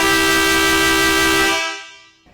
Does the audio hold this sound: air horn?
yes